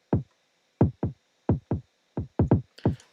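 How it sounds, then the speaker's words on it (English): Programmed kick drum pattern with swing: eight punchy low thumps in an uneven, shuffled rhythm, some in quick pairs, with a faint click of other sound at the very end. "So I created a new pattern of the kick drum"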